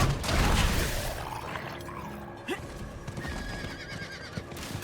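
A horse whinnies loudly at first in Diablo 4: Vessel of Hatred, followed by soft hoof clip-clops and mechanical clatter.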